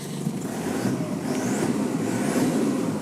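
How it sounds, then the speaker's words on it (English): Diesel engine of a 1998 Toyota Hilux Surf SSR-X, about 218,000 km, revving steadily up close with a broad low rumble that swells slightly and holds throughout, no talk. "I'll give you a little rev now."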